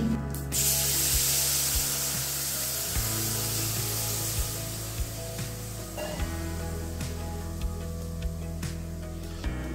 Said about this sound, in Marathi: आपण आता त्यामध्ये ताक टाकूया.